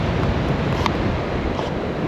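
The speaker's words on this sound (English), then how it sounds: "It's a little bit windy today" Steady wind rushes over surf on a breezy coastal beach near Bundaberg, a continuous broadband roar of waves and microphone buffeting with no gaps, loud and close throughout.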